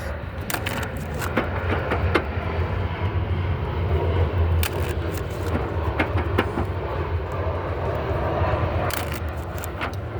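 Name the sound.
airplane passing overhead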